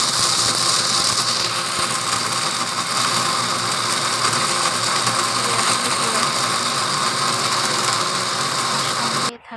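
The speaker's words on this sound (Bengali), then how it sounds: "উঠিয়ে ব্লেন্ডারে দিয়ে গুঁড়ো করে নেব।" An electric blender grinds whole spices into powder, a loud, steady, coarse whirring roar that runs without a break for nearly ten seconds and then stops abruptly.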